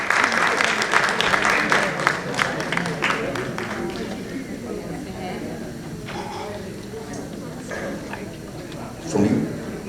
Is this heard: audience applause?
yes